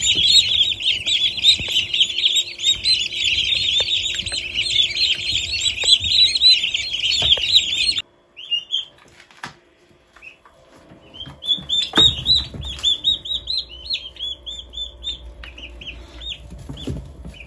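Young broad-breasted turkey poults, about forty of them kept inside a house, peep in a dense, shrill chorus for several seconds, fall quiet briefly, then resume in scattered chirps.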